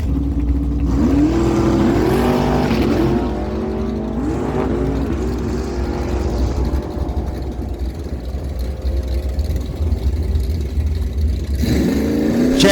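A 1970 Chevy Camaro with a 434 small block roars down a dragstrip, engine loud and sustained with rising gear-by-gear revs, then another hard acceleration surges at the end.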